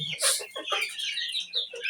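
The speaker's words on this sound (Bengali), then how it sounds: "অরিজিনাল পিওর দেশি মুরগি।" Native desi chickens on a farm give short clucks and squawks in a brief close burst, no talk over them.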